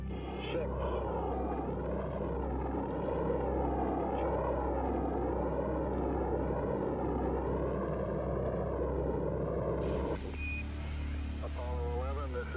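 A Saturn rocket launches Apollo 11, a loud, continuous deep roar with a wavering rumble that holds steady throughout, with radio voices and a crackly transmission layered over it toward the end.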